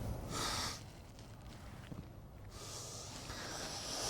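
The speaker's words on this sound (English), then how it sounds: "Can you stop sniffing?" A person gives a few quick, close sniffs and snorting breaths through the nose, with a sharp burst at the start and another near the end and quieter breathing between them.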